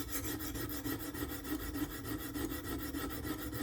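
A knife blade being sharpened toward its tip makes rapid, rhythmic rasping strokes, close and steady throughout with no talking.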